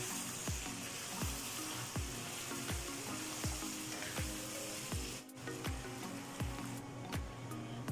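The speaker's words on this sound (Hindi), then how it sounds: "अब मैं इसमें टमाटर डालूंगी 1/2 kg।" Half a kilo of tomatoes fry in a mutton karahi with a loud, steady sizzle, while a spatula scrapes and taps the pan in a regular rhythm about twice a second, up close.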